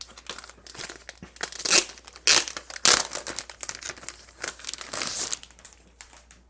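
Plastic packaging of an iPad Pro case being handled, loud irregular crinkling and crackling bursts close to the mic, with a few sharper tearing crunches and no talk.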